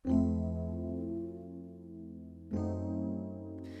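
Sustained keyboard chords ring out, changing once, with a slight wavering pitch drift from a vinyl emulation plugin giving a warped, woozy feel; fairly quiet and alone.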